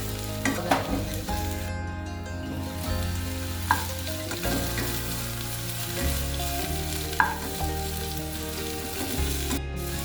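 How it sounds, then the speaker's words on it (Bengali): Cauliflower florets fry in ghee with salt in a covered pan, a steady close sizzle with a few sharp scraping stirs, under continuous background music. "আমরা ফুলকপিগুলোকে একটু ঢাকা দিয়ে দিয়ে ভেজে দিচ্ছি, নাহলে কাঁচা কাঁচা থেকে যাবে।"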